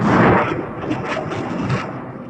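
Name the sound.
Syrian military firing missiles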